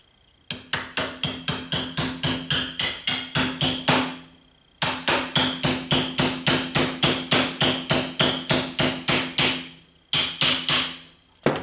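Metal pin hammered into a Mustang fastback door hinge: three bursts of rapid, evenly paced ringing hammer blows, close and loud, with short pauses between runs.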